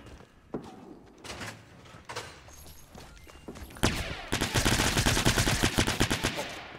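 Gunfire in Fortnite on Xbox One: a few sharp isolated shots early, then a dense burst of rapid, loud repeated shots toward the end.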